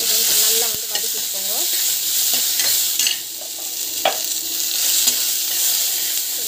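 Loud, steady frying hiss from a pan as onion-and-spice masala for brinjal mochakottai puli kuzhambu is sautéed, with occasional spatula scrapes and taps cutting through the continuous sizzle, close up and with no talk.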